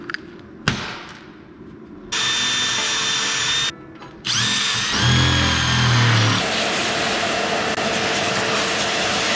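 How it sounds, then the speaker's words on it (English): A power drill whirs in several bursts, stopping and restarting, with a deeper grinding stretch as the bit bites in, loud and nearby. "What we do is drill a little pilot hole"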